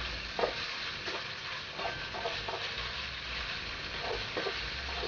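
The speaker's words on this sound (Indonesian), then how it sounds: "Kita tumis sampai ayamnya matang dengan merata." Chicken sautéing in a pan while making soup, a steady close sizzle with repeated stirring scrapes about once a second, no talk.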